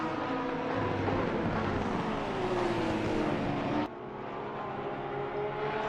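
Porsche GT race cars roar around the Nürburgring in Assetto Corsa Competizione, a dense, continuous engine drone with a shifting pitch and an abrupt cut to a slightly quieter car view partway through, no talking.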